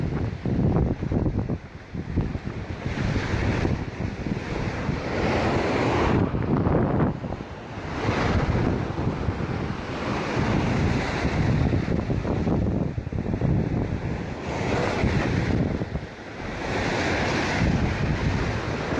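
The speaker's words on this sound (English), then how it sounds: "Don't think that the wind is stable there." Strong wind buffeting the microphone at a shore while a stunt kite is flown, a loud continuous roar in gusts, with surf-like rushing noise and no voices.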